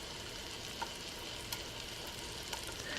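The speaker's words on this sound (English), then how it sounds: "I just put it on the griddle and it is starting to cook on the first side." A Beyond Meat plant-based bratwurst sizzles on a dry non-stick griddle skillet, a constant fine crackling hiss with a few faint pops rising out of it, quiet and unbroken, no voices.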